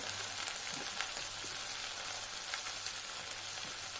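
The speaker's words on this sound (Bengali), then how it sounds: "এর মধ্যে আমি দিয়ে দিচ্ছি আদা রসুন বাটা।" Ginger garlic paste sizzling in hot oil for a fish and taro curry makes a faint, even hiss with soft crackles throughout.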